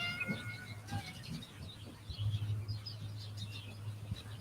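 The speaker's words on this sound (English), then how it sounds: "We have a kitty visitor." A cat meows softly up close amid faint chirps, with a low steady hum underneath and some light rustling.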